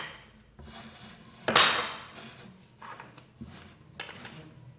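Clinks and scrapes of a bowl and utensils being handled in a kitchen while making Algerian date-filled fried semolina pastry, close and lively, with a louder clatter early on and lighter knocks after.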